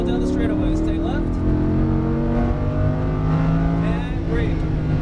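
Lamborghini Huracán at full throttle on a racetrack straightaway, its engine note climbing steadily and loud throughout, with an instructor's voice talking over the roar.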